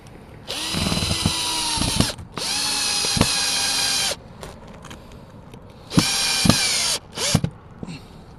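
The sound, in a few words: power drill driving a screw back in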